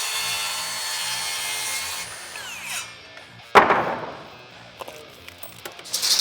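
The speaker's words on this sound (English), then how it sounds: "I gotta cut this on the miter saw." A miter saw cutting composite deck boards during a deck build, with a loud high whining cut that spins down over a couple of seconds, then a sharp clack and scattered knocks and handling sounds nearby, with no talk.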